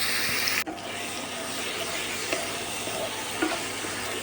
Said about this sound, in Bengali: ভালো করে মশলাটা ভেজে নেবেন।